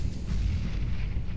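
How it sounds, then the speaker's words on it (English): A flashbang grenade detonates in a tactical shooter video game, a loud, booming blast with a rumbling low-end body that fills the short moment with no voices over it. "Deploying flashbang. Throwing a flashbang."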